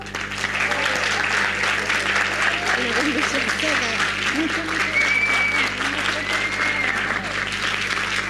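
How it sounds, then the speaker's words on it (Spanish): Audience applause after a talk on therapeutic uses of psilocybin at a fungi festival, loud and sustained for the whole stretch, with faint voices and a few whistles mixed in. "un aplauso"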